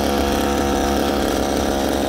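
A small engine fuelled by a butane gas canister runs loud and close, a steady buzzing drone throughout.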